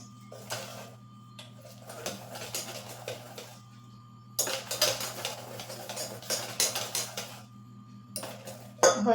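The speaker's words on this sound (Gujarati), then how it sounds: "અને બરાબર મિક્સ કરી લેશું" A spoon stirs mango tea cake batter thinned with milk in a bowl, making rhythmic scraping and clinking strokes in two bursts with a quieter gap between, over a low steady hum.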